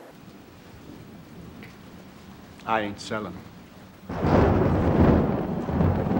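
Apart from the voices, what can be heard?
thunder sound effect gag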